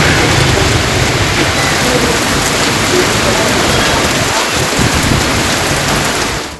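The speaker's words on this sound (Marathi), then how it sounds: "सोलापूर शहर जिल्ह्यात रिटर्न मान्सून मोठ्या प्रमाणावर बरसतोय" Return-monsoon rain falls steadily over Solapur city as a dense, loud, unbroken hiss that holds the same level from start to finish.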